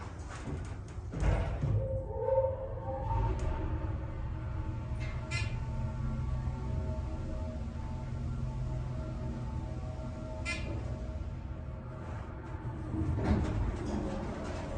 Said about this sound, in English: we'll listen to the motor.